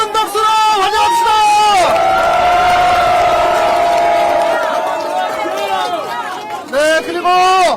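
Cheering and applause from a crowd at a Korean presidential campaign rally in Jeonbuk province, with loud amplified speech over it and a sustained whooping roar in the middle.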